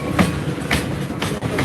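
Freight train loaded with coal rolling past close by, a steady roar of rail noise with repeating clickety-clack wheel beats about every half second.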